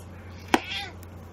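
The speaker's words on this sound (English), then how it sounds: "That's our cat, Georgie." A pet cat gives a single short meow, close by, with a faint low hum underneath.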